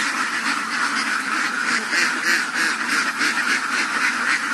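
A flock of penned ducks quacks continuously nearby, a busy overlapping chorus of loud rhythmic calls with no pauses.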